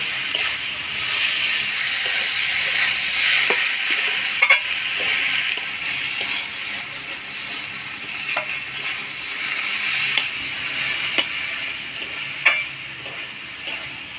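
Mushrooms and potatoes fry with spices in a pan for a Bengali mushroom curry, giving a steady sizzle and hiss broken by the light scrape and clink of stirring.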